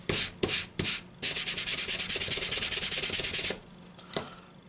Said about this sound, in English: all you have to do is just brush the sanding stick